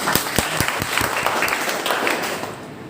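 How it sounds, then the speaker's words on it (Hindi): A seminar audience claps for newly joined members, a short burst of scattered, fairly distant hand claps that thins out toward the end. "चलिए एक बार हमारे नए साथी के लिए जोरदार ताली।"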